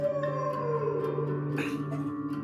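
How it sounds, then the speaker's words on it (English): A wolf howls nearby in the video game The Yawhg, one drawn-out falling cry over a steady bed of game music, followed by a brief rustle. "One day you hear a howl nearby, followed by the rustling of leaves."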